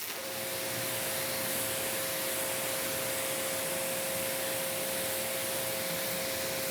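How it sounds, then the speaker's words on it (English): A foamed car being rinsed with a water spray gives a steady, loud hiss with a faint constant tone running through it, unbroken for the whole stretch with no talking. "Let's give it a rinse."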